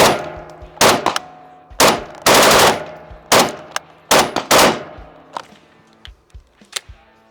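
Battle rifle firing on an outdoor range, a series of loud, sharp single shots spaced irregularly with some quick pairs, each with a ringing tail, followed by fainter clicks and clanks of the action being worked.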